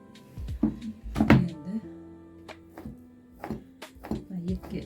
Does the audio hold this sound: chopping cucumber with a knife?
yes